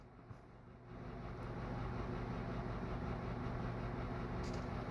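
A Dremel 4000 rotary tool carving a pine gnome spins up after a brief pause into a steady, close, continuous buzzing drone that holds alone without talk.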